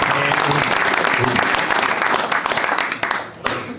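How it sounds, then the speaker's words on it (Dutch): Applause from an audience at a cultural prize ceremony, a dense, continuous wash of many hands clapping close by that dips briefly near the end. "Zullen we nog een keer klappen voor die man?"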